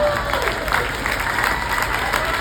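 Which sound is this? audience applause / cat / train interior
audience applause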